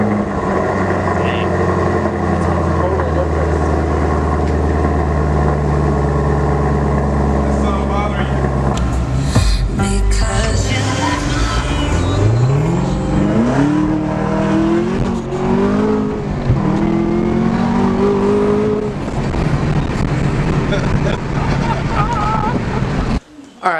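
A Chevrolet Camaro ZL1 1LE idles loudly and deeply up close, then its engine revs up and down several times with rising and falling pitch. The revving ends in a rough burble.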